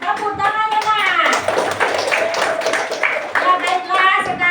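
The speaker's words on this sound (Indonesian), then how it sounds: "Tepuk tangannya, Nak." A class of young schoolchildren in an Indonesian second-grade lesson claps hands in a dense, steady patter, mixed with their overlapping chattering voices close by.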